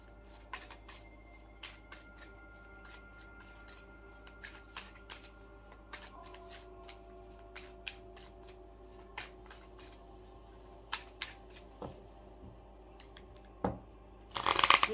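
Tarot manifestation cards riffled and shuffled by hand, a run of soft papery flicks and taps at close range over a low steady hum, with a louder clattering burst at the very end.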